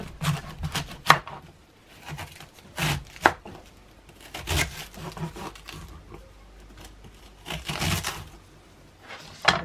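Knife chopping cabbage on a board in a home kitchen, irregular clusters of sharp close cuts and crunches with brief pauses between them.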